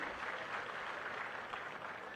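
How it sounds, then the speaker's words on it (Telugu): Audience at a public face-to-face meeting on panchayat raj and rural local bodies claps together, a dense, even patter of applause heard at a distance, faint and unbroken. "గట్టిగా చప్పట్లు కొట్టండి."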